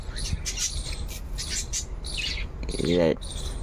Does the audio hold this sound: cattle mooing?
no